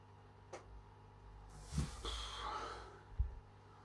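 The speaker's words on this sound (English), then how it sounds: "Let's give her a sniff." Person sniffing a glass of pale ale up close, a couple of quick nasal inhales with faint breathy snorts and small bumps of glass handling in a quiet room.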